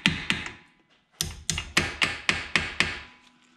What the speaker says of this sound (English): tap these a little bit to seat them